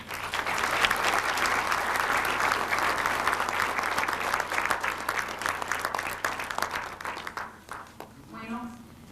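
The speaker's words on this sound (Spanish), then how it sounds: "Por favor, un aplauso para ellos." Sustained audience applause at an international scientific conference in 2000, dense clapping that stays loud for most of the stretch and then thins out near the end, with some voices mixed in.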